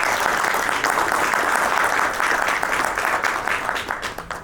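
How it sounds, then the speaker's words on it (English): An audience at a product launch event in Ahmedabad claps for the guests, a dense, sustained round of applause that thins slightly toward the end. "Would like to request everyone to have a big round of applause for all of our guests."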